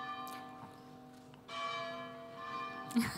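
A church bell tolling during a public authors' event, with a few spaced, resonant strikes ringing out at moderate distance and no talk over them.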